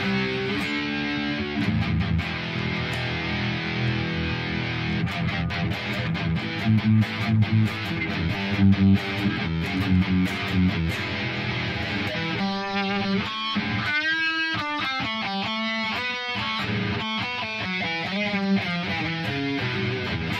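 Instrument audio runs through a Fat Blob plug-in preset with reverb, giving a loud, continuous distorted and effected tone with shifting, stuttering textures.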